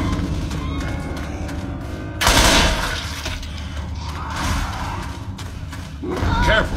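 Gunfire in the shooter Left 4 Dead 2, airport level: a loud sharp burst near the start, then quieter shots and thuds, with short gaps between them.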